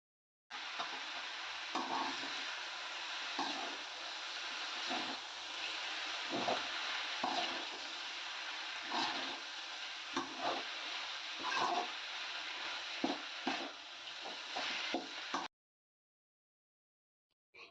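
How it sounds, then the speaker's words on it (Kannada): Cooked greens and lentils frying in oil with golden-brown onions, a steady close sizzle broken by repeated scraping stirs of a spatula, running without talk until it cuts off near the end. "ಇವಾಗ ನಾನು ಬೇಯಿಸಿರುವಂಥ ಸೊಪ್ಪು ಕಾಳನ್ನ ಹಾಕಿ ಸ್ವಲ್ಪ ಹೊತ್ತು ಫ್ರೈ ಮಾಡ್ತೀನಿ"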